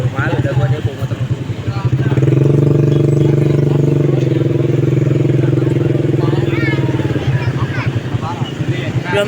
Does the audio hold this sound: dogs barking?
no